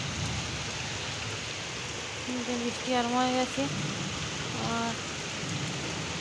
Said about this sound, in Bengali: বেশি বৃষ্টি হচ্ছে না, হালকা হালকা বৃষ্টি হচ্ছে।